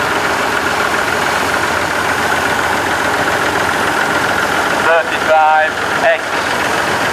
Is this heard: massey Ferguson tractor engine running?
yes